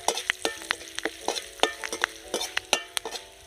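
Curry leaves fry in a pan for flattened-rice chivda, giving a steady close sizzle broken by sharp crackling pops and a few stirring scrapes, with no one speaking.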